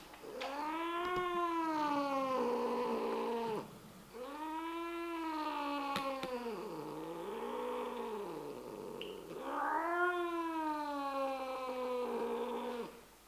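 A female cat growls and yowls while being carried indoors, giving three long, drawn-out, wavering moans with short breaks between them, close and fairly quiet.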